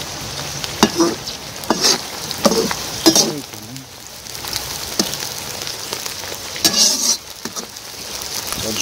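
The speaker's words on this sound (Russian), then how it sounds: "Итак, лук с зеленью немножко поджарили." Onions with herbs, rosemary, chili and bell peppers sizzling and crackling in a hot pan, with occasional stirring scrapes and clinks over a steady frying hiss.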